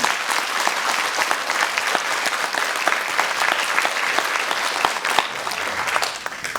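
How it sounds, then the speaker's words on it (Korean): An audience at a tea culture festival symposium applauds to welcome a speaker, with loud, dense, sustained clapping throughout. "박수로 다 한번 환영해 주시면 감사합니다"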